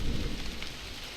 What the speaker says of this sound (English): It's just the rain and the thunder now.